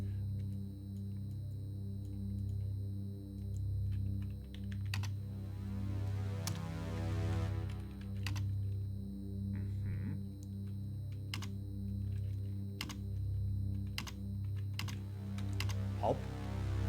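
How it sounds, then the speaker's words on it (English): Keys clack on an old-style computer keyboard in the game Stories Untold, sparse separate keystrokes and short runs of typing over a low, steady electrical hum, with no talking. "I have to use the keyboard for this. It's just like old-timey computers."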